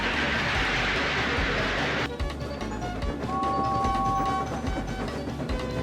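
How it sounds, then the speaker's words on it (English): Train wagons rumble along the rails with a rhythmic clickety-clack, a sustained metallic tone rising briefly midway through. "The engine, a new one called James, was frightened. They're pushing me!"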